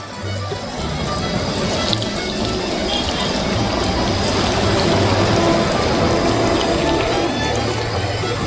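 Breaded fish fingers fry in hot oil as the last batch, making a loud, steady, close sizzle that hisses evenly throughout with no pauses.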